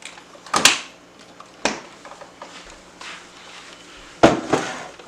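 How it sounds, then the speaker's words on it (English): A fridge door closing in a home kitchen while tandoori chicken is being prepared: several dull thumps and knocks spread across a few seconds, one near the start, one midway and a double bump toward the end, with quiet room noise between. "I close the one door first."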